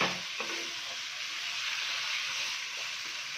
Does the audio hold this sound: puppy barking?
no